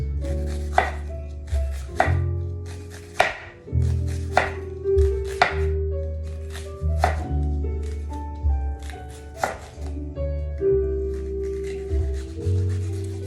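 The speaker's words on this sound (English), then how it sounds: "The way I like to do the onions, I like to nice thin slices." A knife slices an onion into thin rings on a cutting board, giving a dozen or so crisp, close knocks at an unhurried, uneven pace with no talking.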